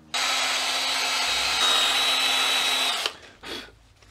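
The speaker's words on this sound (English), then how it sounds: "I'm gonna go ahead and use this wire brush for a second to clean up seats of the valves." A powered wire brush cleans the valve seats of a Classic Mini cylinder head. It gives a loud, steady, high whirring grind for about three seconds, then cuts off, and a short scraping touch follows.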